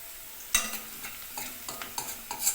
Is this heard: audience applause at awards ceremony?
no